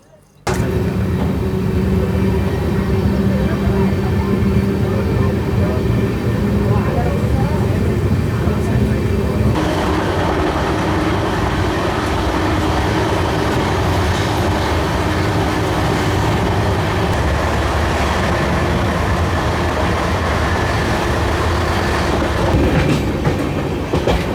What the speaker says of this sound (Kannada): ಹಾಸನ ಸೋಲಾಪುರ ಎಕ್ಸ್ಪ್ರೆಸ್ ಇವಾಗ ಎಂಟರ್ ಆಗೈತೆ ರೀ